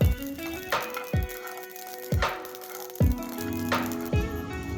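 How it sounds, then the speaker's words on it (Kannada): Mustard seeds dry-roast in a pan with crackling rattles and a few sharp pops, recurring roughly every second over a low sizzle, close up and without talk. "ಈ ಸಾಸಿವೆನ ಚೆನ್ನಾಗಿ ಹುರಿದುಕೊಳ್ಬೇಕಿದು"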